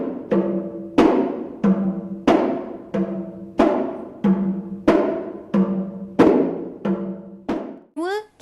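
A kompang frame drum plays the melalu beat from a Malay wedding ensemble, about a dozen resonant slaps struck at a steady, even pace, close and loud, followed by a brief voice at the end.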